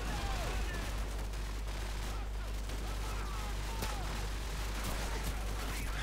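Call of Duty 4: Modern Warfare gunfire, dense repeated shots crackling throughout over a constant low hum, with a player talking now and then beneath the shooting.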